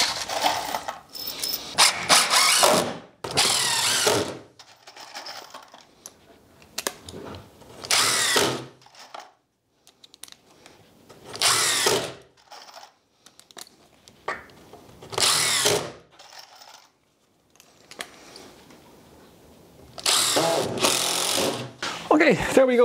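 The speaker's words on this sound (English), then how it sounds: "So it's just a case of screw these on." Power drill driving screws to fix hinges onto the lid of a wooden raised bed planter built from a 2x4 frame, sounding in several loud, close bursts of whirring with quiet gaps between.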